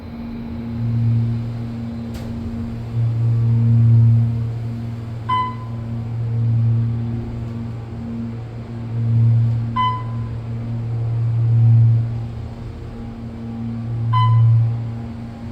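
Inside an Otis Series 1 hydraulic elevator in a parking garage, a steady low motor hum and rumble runs throughout, swelling and easing, with a few faint chime-like pings along the way.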